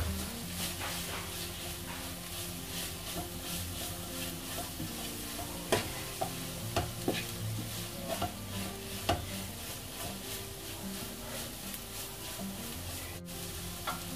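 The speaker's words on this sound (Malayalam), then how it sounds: "ഇത് നന്നായി മിക്സ് ചെയ്ത് ഇതിന്റെ പച്ചമണം ഒന്ന് മാറുന്നത് വരെ ഇളക്കാം" Coriander powder being stirred into a sizzling duck curry masala in a pan, a steady close frying hiss with scattered scrapes and light taps of the spoon against the pan.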